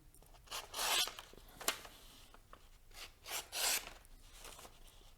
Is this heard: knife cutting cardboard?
yes